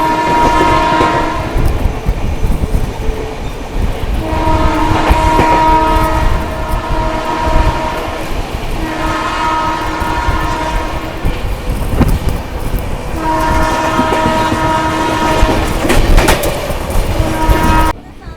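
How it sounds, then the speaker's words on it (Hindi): Odisha Sampark Kranti Express passing Etawah Junction, sounding long sustained horn blasts repeatedly over a loud, continuous rolling rumble of the train, heard close. "अपनी फुल हॉकिंग के साथ भाई अपनी उड़ीसा संपर्क क्रांति स्किप मार रही है इटावा जंक्शन को"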